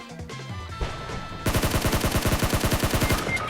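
Gunfire in PUBG Mobile: a burst of scattered shots opens, then a steady, rapid automatic volley hammers away close and loud for about two seconds, with no talk over it.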